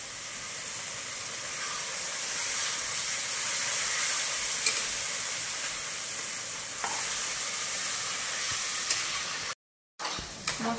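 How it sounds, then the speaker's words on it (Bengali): Ground spice paste being sautéed in oil for a Bengali rohu fish curry, a steady hissing sizzle with occasional stirring clicks, a brief silence, then the frying resumes. "এবার আমি বেটে রাখা মশলাটা দিয়ে ভালো করে কষিয়ে নেব।"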